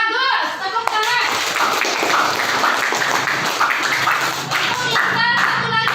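Classroom students clapping together in an Islamic religious education lesson after a group presents its conclusion, a dense rhythmic patter of small hands close by, mixed with children's voices and chatter.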